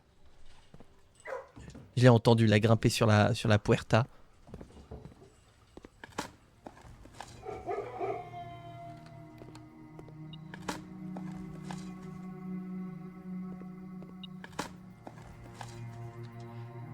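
A dog barks in the video game Blue Prince, a quick cluster of loud yips and barks near the start, then a quieter whimper, with people talking throughout.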